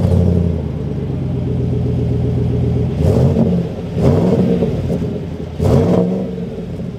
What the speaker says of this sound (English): Let's take a quick listen to this V8.